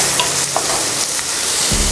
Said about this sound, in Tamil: எல்லாத்தையும் சேர்த்துட்டு கொஞ்சம் வதக்கி விட்டுக்கலாம்